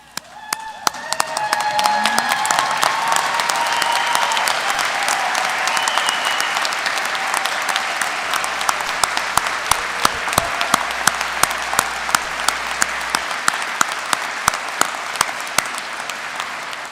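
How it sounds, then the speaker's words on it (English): At a university fall commencement ceremony, a large audience gives the graduates loud, sustained applause, with dense clapping building quickly and holding steady to the end. "offer a round of applause for our"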